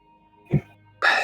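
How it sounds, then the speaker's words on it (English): A short, low burp erupts once, followed right after by a brief breathy noise. "it'd be nice if I'd stop burping in the middle of my sentences"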